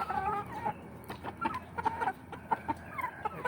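Backyard flock of grown pet chickens clucking, several birds giving short repeated clucks and calls at close range, with fairly steady rhythm and quiet farmyard background.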